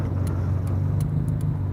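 An old car's engine hums steadily from inside the cabin while driving, a continuous low rumble with no talking.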